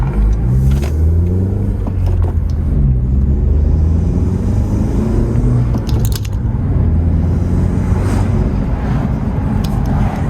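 10th-gen Honda Civic engine with rev hang turned off, revving in repeated short rises and quick drops, a close, loud rumbling blips with no talk.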